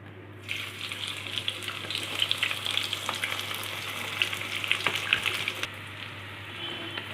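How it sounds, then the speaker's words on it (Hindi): Chopped onions hit hot oil in a kadai and fry with a steady, close hiss that swells shortly after the start, with faint stirring scrapes running through it. "प्याज को अच्छे से भून लेंगे।"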